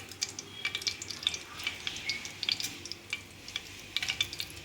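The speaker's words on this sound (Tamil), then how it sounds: "கடுகு பொரியட்டும்." Mustard seeds crackle and pop in a small amount of hot oil in a cooker, a close, continuous scatter of sharp little spits and crackles over a low sizzle.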